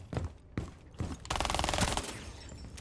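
Rapid automatic gunfire in Rainbow Six Siege: a few separate shots, then a sustained loud burst of fire lasting over a second, with a rattling echo trailing off behind it.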